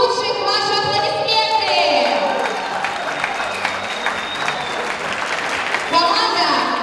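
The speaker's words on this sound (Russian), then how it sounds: "Команда лучших, ваши аплодисменты!" An audience at a team competition event breaks into sustained applause that fills several seconds, with an announcer's voice over the start and returning near the end.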